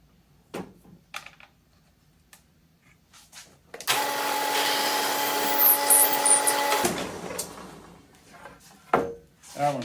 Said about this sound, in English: now we just got to drill for the bumper